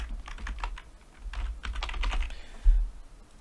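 Quick bursts of computer keyboard typing while renaming a generic concrete material in V-Ray for Rhino 7, clicking in close, uneven clusters over about three seconds with a low hum beneath and no talking.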